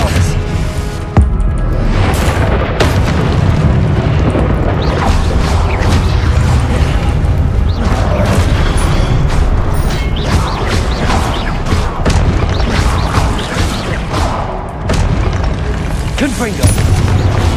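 Confringo blasting spells exploding repeatedly in Hogwarts Legacy combat, loud continuous booms and crashes layered with game effects, while someone talks over the action.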